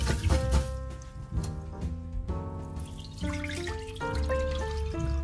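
Water runs and splashes at a sink while something is given a quick wash, with irregular drips, clinks and trickling bursts, close and moderately loud, no voices.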